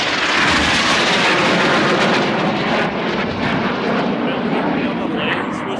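A formation of Red Arrows aerobatic jets at the Perth Airshow sweeps past with a loud, sustained broadband roar that swells and fades slightly. Commentary runs over it.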